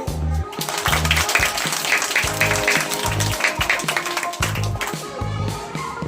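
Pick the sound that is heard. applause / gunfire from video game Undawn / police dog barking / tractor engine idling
applause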